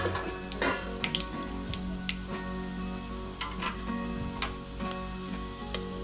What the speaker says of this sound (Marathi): पहिल्यांदा आपण मोहरी टाकून घेऊया, जिरे, खडे मसाले,